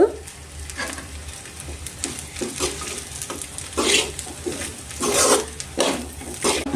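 Mango pulihora rice being stirred and mixed in a pan, with soft scraping strokes and a light sizzle underneath, coming in irregular bursts nearby and no speech.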